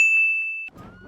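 A single bright bicycle bell ding rings out loud and close, its metallic tone sustaining for most of a second before fading into quiet background noise.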